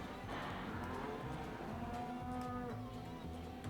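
Cattle in Farming Simulator 2015 moo in a long, low, drawn-out call, close and clear, followed by softer repeated lowing with no talking.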